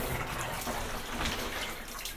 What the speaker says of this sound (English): Let's see what it's shooting out of the shower thing.